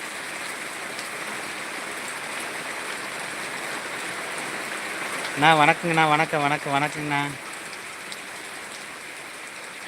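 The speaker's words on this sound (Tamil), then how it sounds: "களை எடுக்கலான்னு பார்த்தா இன்றைக்கி வேலையே கெடுக்குது மழை வந்து" Steady rain falls on a rice paddy field in Muthur, Tiruppur district, as a constant soft hiss. Voices briefly exchange greetings partway through.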